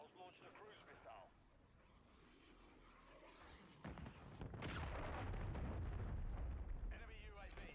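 A cruise missile strike in a video game starts as a sudden blast partway through and swells into a heavy, sustained roaring rumble. Voices talk before and after the blast.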